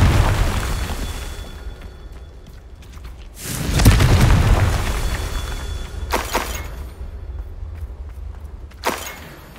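Confringo fire spell explosions in the video game Hogwarts Legacy: a rumbling blast swells and fades, followed by two sharp bursts, loud and close over ambient background.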